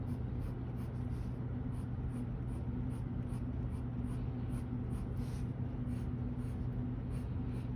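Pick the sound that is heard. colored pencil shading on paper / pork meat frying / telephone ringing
colored pencil shading on paper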